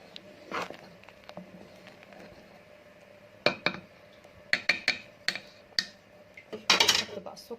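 A metal spoon clinks and scrapes against a pot of sweet wheat pudding (belila) with vanilla as it is stirred, in scattered bursts, close by, with a faint low hum underneath.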